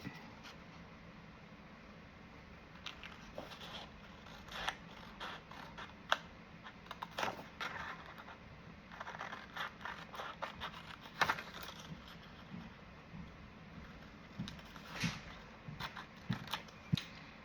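Scissors snip through paper to cut out a kite shape for junk journal ephemera, producing irregular close crisp cuts and rustles, quiet and steady over a soft background hum, with no talking.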